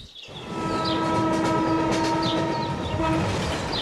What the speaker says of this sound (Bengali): ট্রেন যায় একেবারে ওদের বাংলোর সামনে দিয়ে